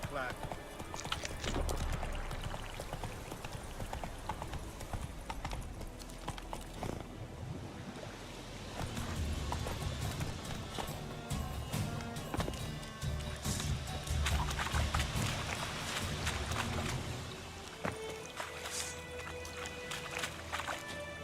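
A horse gallops in The Witcher 3, a steady rhythmic clatter of hooves running under ambient game sound and music, with someone talking over it at points.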